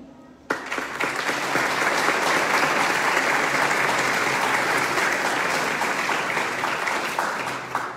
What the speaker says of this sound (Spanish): Brindamos un fuerte aplauso para el arquitecto Javier Aquino Limón